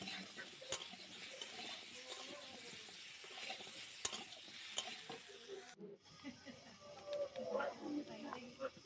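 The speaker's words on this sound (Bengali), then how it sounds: "কুমড়োটা এদিকে কষা হচ্ছে" Pumpkin pieces frying with salt and turmeric in a pan, a quiet sizzle with scraping stirs and clicking utensil knocks, cut briefly near the end and then resuming under faint background sounds.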